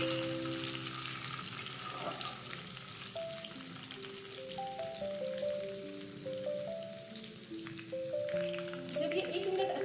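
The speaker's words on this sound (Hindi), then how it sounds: "अच्छे से चलाएं।" Chopped chilies and garlic fry in a pan for Maggi while being stirred, a steady crackling sizzle with occasional scraping, accompanied by faint melodic background music.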